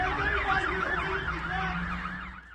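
Wailing police sirens rise and fall in overlapping cycles, moderately distant, with a low rumble of traffic underneath.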